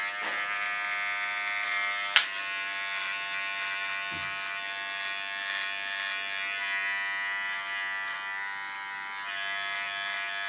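A large electric hair clipper set to its shortest position hums steadily and close during a very short haircut, a continuous buzz with one sharp click early on and no talk.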